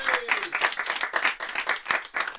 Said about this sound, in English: Give y'all a big round of applause just for coming out tonight.